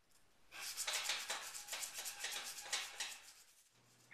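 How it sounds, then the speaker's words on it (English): Sandpaper rubbed over guitar frets during fret leveling, a series of quick even back-and-forth scratchy strokes, close and fairly quiet, with no talking. "I'll sand each fret the same number of strokes so that I don't mess up my leveling job."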